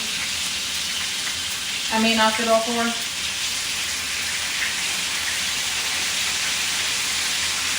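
Steady, loud sizzling of ahi tuna searing in a hot pan, a continuous crackling hiss throughout, with a person speaking briefly near the start.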